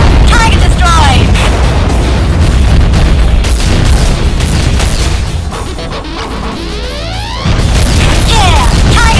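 Heavy, loud explosions and booming blasts fill the scene as a target is destroyed in the underwater PC shooter Aquanox, with dense crashes and debris bursts, a brief lull, then more booms.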